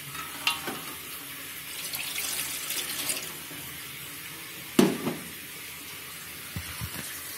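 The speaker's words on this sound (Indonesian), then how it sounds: "Matikan keran air." Water running from a kitchen tap into a sink or pan during a simple chemistry practical, a steady faint hiss with a few clunks and knocks.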